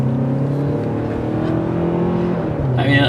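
Engine of a 2022 Hyundai Santa Fe XRT in sport mode, a steady, strained droning hum from inside the cabin as the SUV accelerates, rising slightly before a brief shift at the end.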